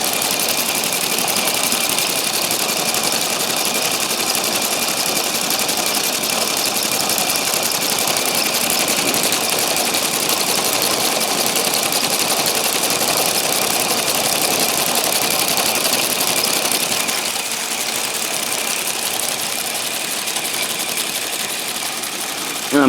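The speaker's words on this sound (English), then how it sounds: "the conveyor will grab the front wheels, and it will pull it through the machine" Continuous mechanical whir and hum of a small conveyor machine pulling a model aircraft through on a home aviation display, steady and close, dipping slightly near the end.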